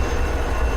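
Train running along the rails, heard as a steady, loud, low rumble with constant rolling noise and no talking over it.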